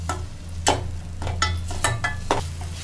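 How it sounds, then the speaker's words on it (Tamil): Onions with ginger garlic paste sautéing in a pan, a steady low sizzle with several distinct stirring scrapes spaced through the clip, close and moderately loud with no talking. "வெங்காயம் கூட இதை நல்லா வதக்கி எடுத்துக்கணும்."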